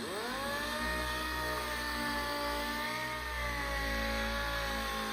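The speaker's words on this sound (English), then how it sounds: "I'm just sanding the primer off of here." A power sander removes primer from a car body up close, a loud steady whirring drone that dips slightly in pitch midway before settling again.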